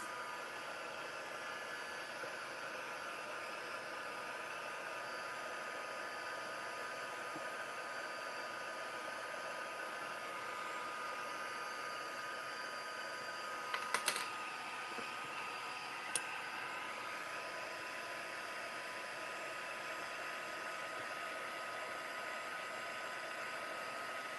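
Steady whirring hair dryer runs continuously at close range, drying paint on craft letters, with a couple of brief clicks partway through and no voices.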